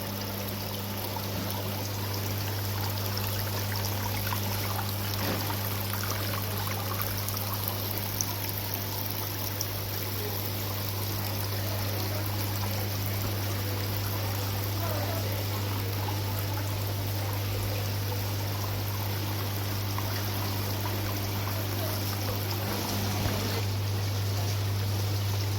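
Water trickles steadily into a small pond at a garden centre, a soft, continuous splashing wash beneath a low constant hum, with no voices.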